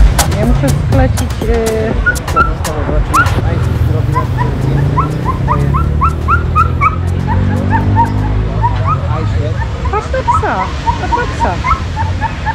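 A dog whimpers and yips insistently in repeated bursts, mixed with occasional barks, close by under continuous conversation from several people and a faint background engine rumble.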